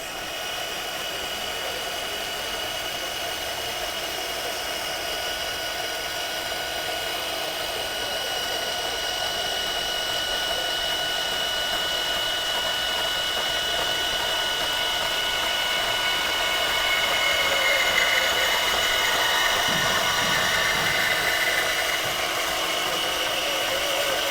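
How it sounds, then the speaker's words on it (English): A Milwaukee power tool runs steadily through a series of cuts at a trade show, a continuous loud whine with a brief shift in pitch near the end and no talking. "let's do some cuts"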